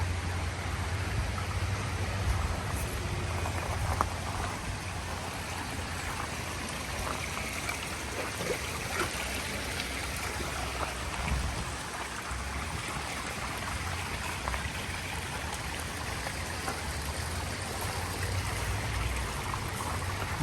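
A stream of water rushes steadily near a waterfall, a dense continuous wash close to the microphone with no voices, holding even throughout.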